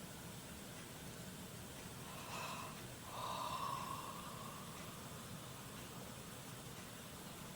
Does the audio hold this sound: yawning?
yes